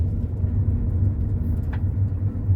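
A car drives along Stepnaya street, heard from inside as a steady, close low engine and road rumble that holds evenly throughout, with no talking.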